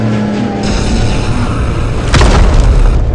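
A car in a monster car crash video game blows up with a sudden loud boom near the end, cutting over continuous engine roar and tire noise.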